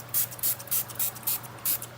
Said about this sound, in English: So this is my fine spray water mister.